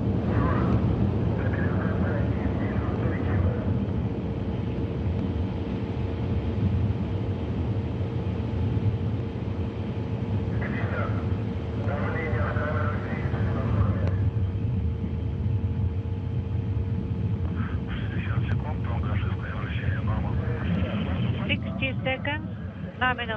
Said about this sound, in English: the Soyuz delivering 102 tons of thrust from its four boosters and single engine